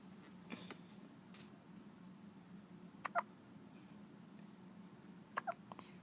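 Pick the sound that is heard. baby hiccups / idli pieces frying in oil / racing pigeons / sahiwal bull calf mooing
baby hiccups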